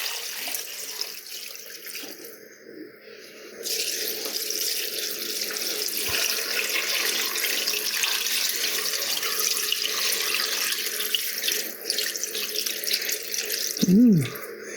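Filtered water pours from a kitchen tap into a stockpot for turkey stock, a steady hissing, splashing stream that grows fuller partway through and runs on continuously, close to the microphone.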